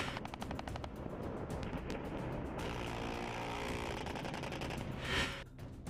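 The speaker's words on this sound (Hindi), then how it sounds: "गोलियां बरसाती मशीन गन" Machine guns fire rapid bursts of sharp shots during a military firepower display, the rattling volleys loud and dense before dissolving into a continuous roar of gunfire and engine rumble.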